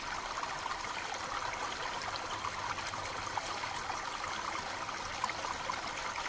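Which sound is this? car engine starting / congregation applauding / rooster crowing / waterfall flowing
waterfall flowing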